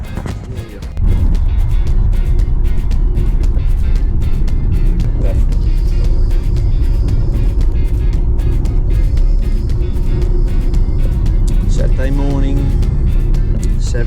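An old late-model Jeep drives along with a constant loud road and engine rumble inside the cabin, with intermittent clicks and a voice speaking briefly near the end.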